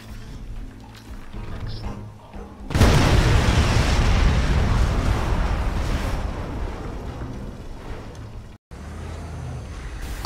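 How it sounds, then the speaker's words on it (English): A loud explosion blast in Crysis Remastered booms in suddenly after a quieter stretch, then rumbles and slowly decays for several seconds before cutting out briefly. "now I'll show you Crysis 1 blast"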